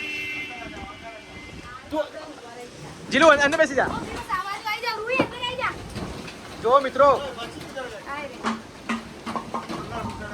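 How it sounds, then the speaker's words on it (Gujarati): A dangerous windstorm with heavy rain beats down around a house, a steady wash of downpour and gusts running throughout while adults and children talk and call out excitedly over it. "કેટલું ખતરનાક છે વાતાવરણ વાવાઝોડું છે"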